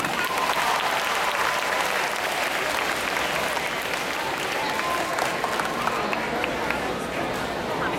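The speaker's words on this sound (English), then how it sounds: "Big round of a pat and a applause for Indonesia." Sustained applause from a school audience for Indonesian students' bamboo angklung orchestra, a thick continuous roar of clapping with faint crowd murmur mixed in, steady and loud for the full eight seconds.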